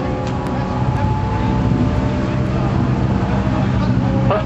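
A BMW K1300 motorcycle runs at a drag race in Cork with a loud, steady engine drone full of harmonics, staying close and continuous throughout.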